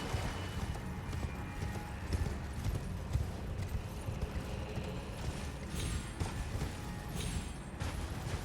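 Horse hooves clip-clop steadily while riding in the video game Elden Ring: Shadow of the Erdtree, a continuous galloping rhythm layered over dense ambient game sound.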